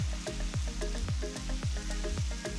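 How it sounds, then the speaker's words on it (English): Onion, ginger, green chilies and curry leaves sautéing in a pan give off a continuous close sizzle, broken by a regular rhythm of stirring scrapes roughly every half second. "Saute all the ingredients for a few minutes."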